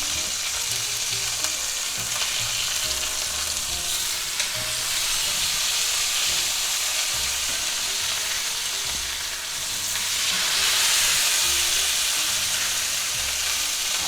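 Thick boneless pork chops fry in a cast iron skillet over medium heat, a steady close hiss and sizzle that holds throughout and swells louder toward the end, with no talking.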